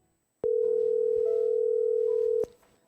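A telephone dial tone sounds as a call is connected: one steady, loud, continuous tone for about two seconds, beginning and ending abruptly, with no talk over it.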